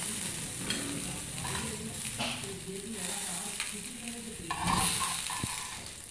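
Fish heads fry in hot oil for a fish head curry, giving a steady crackling sizzle with occasional stirring scrapes and a louder burst of spitting near the end, close by and with no one talking.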